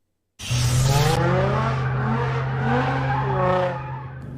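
Several cars gather on a street in South Suburban Hometown near Oak Lawn, and one makes a loud, sustained tire squeal with a revving engine, alone and close by.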